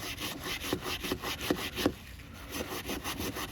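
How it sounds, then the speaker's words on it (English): Scouring pad scrubbing a stone chisel after electrolysis rust removal, quiet close rhythmic rasping strokes in steady back-and-forth repetition, with no talk. "but I have this scoring pad to kind of clean up just a touch"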